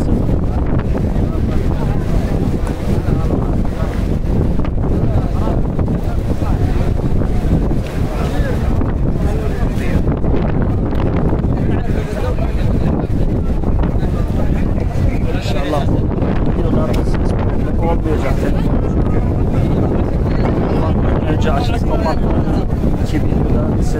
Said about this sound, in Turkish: rüzgardan kaynaklı belki ya da rüzgar sesi vardır, hissediliyor.